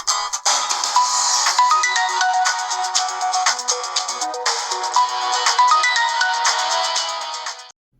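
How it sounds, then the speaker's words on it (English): A computer boot chime plays as a loud, bright electronic melody of layered tones, running steadily for about seven seconds before cutting off abruptly. "Let's give it a boot chime."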